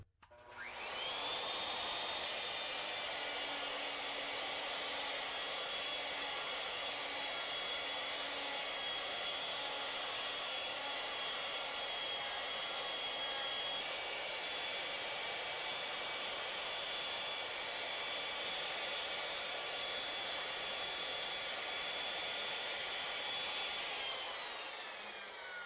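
A router mills a wainscot pilaster rosette in wood on a rotary table, a continuous high-pitched whine with a steady cutting roar that holds for the whole stretch before spinning down at the end.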